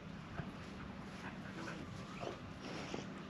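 A dog makes soft, close sounds, faint whines and snuffling breaths, against a steady background hum with no talking, on Koh Samui, Thailand.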